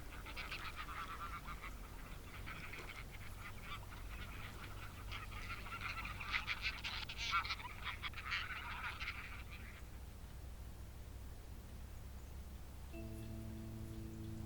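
Flock of migrating geese and other wild fowl calling in Hirkan National Park, a dense continuous chorus of honks and cackles at moderate distance, fading out near the end as a low tonal hum takes over.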